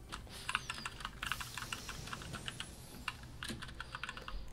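Rapid computer keyboard typing during a Fortnite match, a steady run of light, close clicks and keystrokes with brief pauses, no voices.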